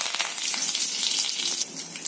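Fresh curry leaves hit hot oil already holding popped mustard seeds and cumin for a tempering, giving a loud, close, steady sizzle with fine crackles throughout.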